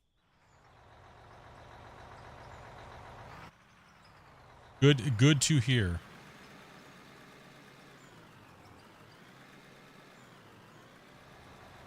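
A truck engine idles steadily in the video game Mine Rescue, joined in the middle by a short burst of loud beeping and clattering. Someone talks over the constant low drone.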